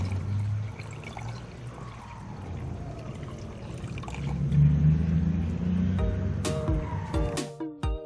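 Nitric acid diluted one to one with water is poured over CPU scrap, a steady liquid pour and trickle that swells midway, ending with a few clinks and knocks near the close.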